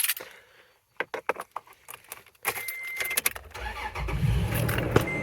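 Keys jangle in a truck's ignition, then the engine cranks briefly and catches, rising into a close, steady running idle.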